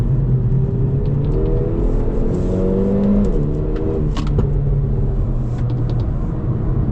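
A 2025 Hyundai i30 N four-cylinder accelerating on a track, a loud, close engine drone that rises in pitch through the gears with brief shift breaks, a steady rumble of road and wind beneath it.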